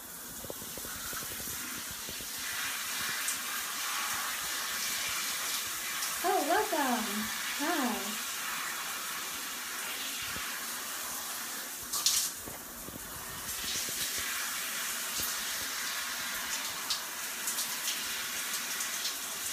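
Water runs steadily from a shower as a continuous hiss, with a few brief chirpy vocal sounds partway through and a small splash later.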